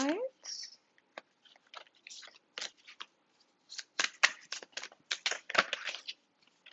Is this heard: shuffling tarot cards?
yes